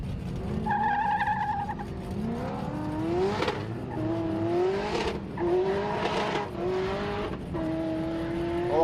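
A race car on track, probably an LS-engined car, revs and shifts through several rising engine pulls as it approaches, loud and harsh with faint tire squeal, no talk.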